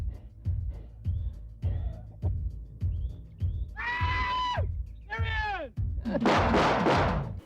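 Movie gunfire and a grenade explosion from the action film Deadly Prey: a steady series of repeated shots, then louder bursts and a closing blast, heard over music and effects.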